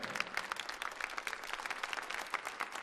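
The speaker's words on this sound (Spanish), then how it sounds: "¿Les podemos dar un aplauso a los pastores de la casa, por favor?" A church congregation applauds its pastors during an evening service, a steady dense wash of many hands clapping for about three seconds, moderately quiet and without speech.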